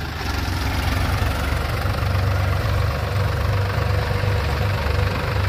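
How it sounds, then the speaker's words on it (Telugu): Two 4WD tractors, a Powertrac Euro 45 Plus and a New Holland Excel 4710, rumble along in reverse gear, their diesel engines giving a steady, close, throbbing drone with a slight knock throughout. "ఈ 2 ట్రాక్టర్లో reverse gear second గేర్లలో వెళ్ళబోతున్నాయి high gear"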